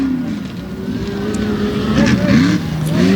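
A modified race truck with a new engine roars around a Tuff Trucks track in Windsor, PA, a sustained loud engine drone with rising revs toward the end and faint crowd or announcer sound beneath.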